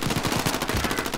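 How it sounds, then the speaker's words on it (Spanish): Rapid automatic gunfire in an online shooter game played by a trio, a dense, loud burst of fast repeating shots filling the whole moment with no talk over it. "Me está disparando."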